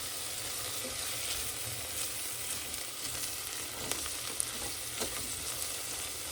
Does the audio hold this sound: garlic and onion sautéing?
yes